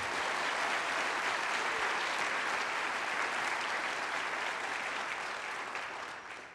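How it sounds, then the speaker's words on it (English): Continuous audience applause fills a hall during NASA's OSIRIS-REx asteroid sample reveal event, many hands clapping in an even, dense roar that tapers slightly as it ends. "We can clap for that."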